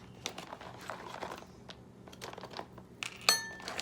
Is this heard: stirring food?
yes